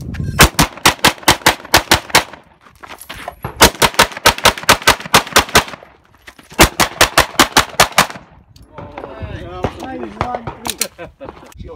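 Rapid strings of pistol shots at an IPSC shooting match, three long bursts of evenly spaced loud cracks separated by short pauses, with a range officer calling commands in the final seconds.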